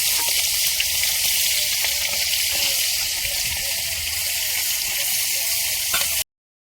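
Fish frying in oil in a village home kitchen, a steady loud broadband sizzle with faint crackles and pops running throughout, ending abruptly.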